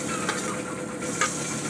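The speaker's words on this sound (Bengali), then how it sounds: "ফোড়ন দিয়ে আলুটা ভাজলে বন্ধুরা" Potatoes frying with tempering spices such as black cumin, a dense constant sizzle and hiss close up, with brief stirring scrapes.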